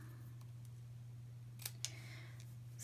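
Scissors cut paper down to size for a small ornament gift card holder in a quiet crafting room: two faint, quick snips close together against a low electrical hum.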